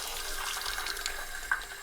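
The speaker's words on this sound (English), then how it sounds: "Just drain the water out of it" Water drains out of an RV hot water heater tank under pressure, a steady close trickling and gushing flow with a small splash near the end.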